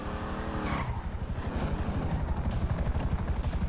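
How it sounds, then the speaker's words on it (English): A helicopter in Grand Theft Auto V, its rotor giving a steady rhythmic thumping that follows a car engine whine and tire screech, loud and close with no speech. "Shit! Chopper!"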